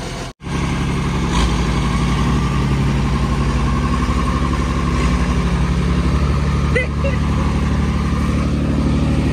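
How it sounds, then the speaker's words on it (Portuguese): A tractor engine running on a slick, muddy road, heard as a continuous close mechanical rumble with a steady drone throughout, with a brief dropout near the start. "O trator tá vindo aí agora."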